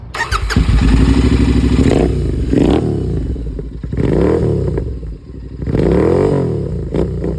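A loud Royal Enfield 650 Tracker motorcycle engine rumbles and revs close by, surging in several throaty bursts with brief dips between them.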